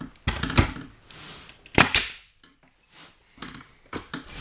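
Hammer blows drive nails into pine boards, a few sharp, loud cracks spaced irregularly with quiet gaps between, followed by softer taps near the end.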